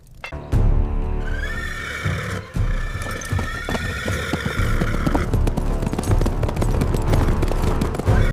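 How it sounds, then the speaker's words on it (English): A horse whinnies loudly near the start, followed by a busy, rumbling rush of hooves and clatter that continues steadily to the end. "he whips his horse and gallops southeast to escape the assassins"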